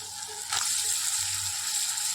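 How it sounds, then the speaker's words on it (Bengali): Fish dropped into a hot pan of fried onion, garlic, ginger and sauce, a steady bright sizzle that jumps louder at the moment of adding and holds, close and without talk. "চলো কষানি হয়ে গেছে, মাছগুলো এবার দিয়ে দিই।"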